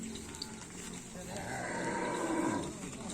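A cow lows in a drawn-out moo amid a busy background with voices talking nearby, the call rising in the middle and fading out.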